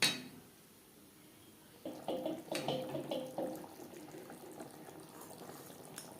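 A fish and potato curry gravy simmers in water in a pot, and after a brief quiet start it turns into a soft, steady bubbling that stays faint and close, with no talking.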